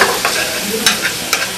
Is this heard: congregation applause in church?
no